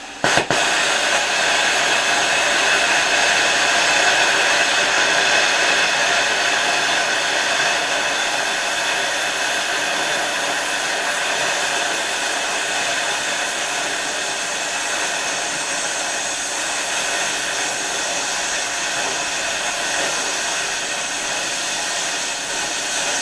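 A cheap plasma cutter set to 40 amps slowly cuts through inch-thick steel, producing a loud, steady, close-up hiss and roar of air and arc that holds for over twenty seconds without a break.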